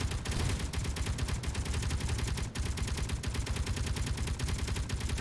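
A gun turret firing steadily in Space Engineers during hardcore survival play, a loud, unbroken stream of rapid rhythmic shots lasting several seconds.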